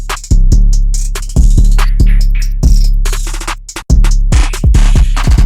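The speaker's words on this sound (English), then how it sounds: "I'll show y'all the 808." Booming 808 bass in a trap beat made in FL Studio, loud sliding low notes hitting in a syncopated pattern with sharp percussive transients, with no voice over it.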